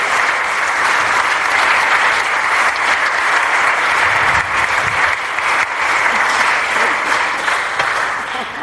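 An audience at a book presentation on globalization breaks into loud, sustained applause, dense clapping holding evenly for several seconds before easing slightly at the close.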